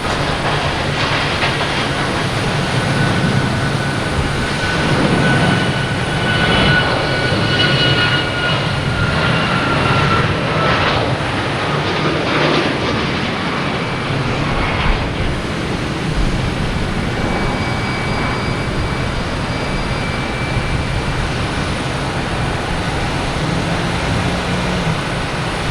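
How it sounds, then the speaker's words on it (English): A United Airlines Boeing 737 MAX 9 takes off at Boston Logan Airport, a loud, broad, steady jet roar that holds for the whole stretch, slightly swelling and fading. "Next taking off United Airlines, 737 MAX 9, heading to LAX."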